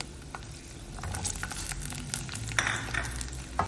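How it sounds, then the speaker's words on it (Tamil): Garlic and small shallots sautéing in a pan, a steady close sizzle with occasional stirring scrapes and sharper crackles throughout. "பூண்டும் வெங்காயம் வதக்கிட்டு எடுத்துக்கலாம்."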